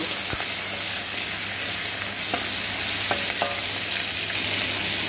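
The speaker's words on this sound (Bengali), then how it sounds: "তেলটা গরম হওয়ার পরে কড়াইতে আমি চিংড়ি মাছগুলোকে দিয়ে দিলাম, সাথে সামান্য একটু নুন দিয়ে দিলাম আর অল্প একটু হলুদ দিয়ে এটাকে অল্প একটু করে ভেজে নেব।" Prawns fry in hot oil in a kadai with salt and turmeric, producing a constant dense close sizzle with a few faint clicks of a spatula, no voices.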